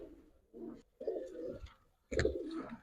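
Young high-flyer pigeons coo softly in short repeated phrases, three low throaty bursts separated by brief pauses, close by and fairly quiet.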